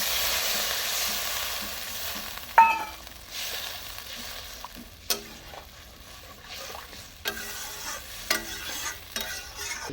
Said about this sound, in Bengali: মশলাটা আমার কষা হয়ে গেছে, এবার আমি একটু জল দিয়ে নিচ্ছি